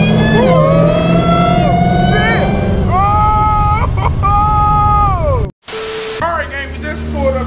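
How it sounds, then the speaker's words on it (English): Supercharged car engine revving in a street pull, rising whine swelling and falling across several pulls, loud and close, with a sharp cut partway and the engine returning after. "y'all hear that damn supercharger?"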